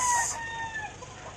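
A rooster crows briefly at a chicken farm, a single clear harmonic call fading within about a second.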